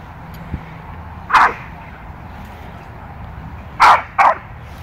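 Two pit bulls on a street let out a few sharp, loud barks, one single bark then a quick pair about two seconds later, over quiet outdoor background.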